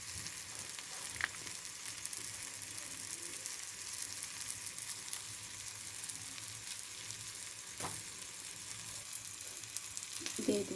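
Food frying steadily in a pan with a continuous sizzle, a few stirring scrapes and clinks breaking through now and then; no talking.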